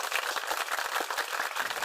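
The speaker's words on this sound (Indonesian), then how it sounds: "Tepuk tangan dulu untuk beliau" Brief applause for a school principal at a high school event, a dense steady patter of many hands clapping throughout.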